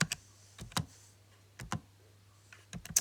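Calculator keys pressed while working out a maths exam answer, a few sharp separate clicks and taps spread over a few seconds, close and fairly quiet with a low steady hum underneath.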